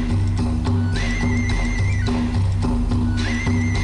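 Horses neigh in the strategy game King of Dragon Pass, two high whinnies rising over a steady, loud bed of game music with low rhythmic tones beneath.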